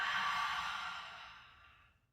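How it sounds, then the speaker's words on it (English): A single long breath pushed out through the mouth during a pelvic tilt exercise, soft and airy, fading steadily to quiet over about two seconds with no voice. "Take a breath in, exhale, ha it out."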